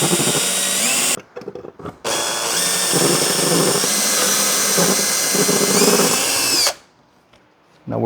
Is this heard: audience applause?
no